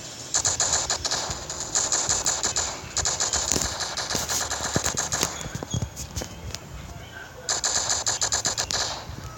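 Rapid automatic gunfire in the shooting video game Standoff, loud bursts of dense crackling shots that come and go, with brief lulls between them and a voice talking excitedly over the action.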